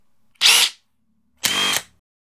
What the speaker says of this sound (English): The Makita, not only is it quieter, more powerful, has a special wood drilling mode, and the batteries last longer.